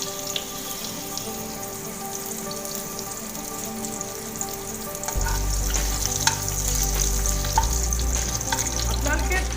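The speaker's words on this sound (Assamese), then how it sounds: "খিনি অকণমান গৰম হোৱাৰ পিছত মই এটা তেজপাত দি দিছোঁ ইয়াতে।" A bay leaf dropped into about two spoons of hot oil sizzles and crackles steadily, close by, with the frying growing louder partway through; no one speaks.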